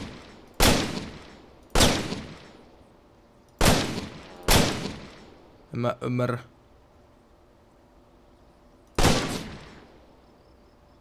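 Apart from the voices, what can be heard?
gunfire in Finnish Army Simulator video game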